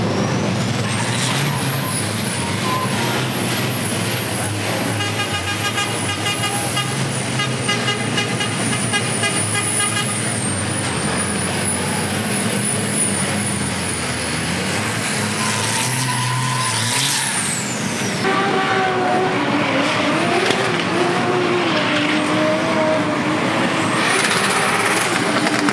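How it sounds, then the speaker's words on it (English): A race truck doing a burnout at the Goodwood Festival of Speed 2019, a loud continuous engine roar with screeching tyres and rising revs, sustained throughout, near and dominant with no talk. "Race truck burnout."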